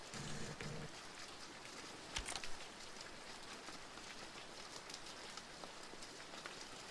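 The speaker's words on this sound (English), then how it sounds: "The rain sound effects" Rain in the GoldenEye 007 Reloaded video game: a faint, steady hiss of rainfall pattering on surfaces with a brief soft thump partway through, no voices.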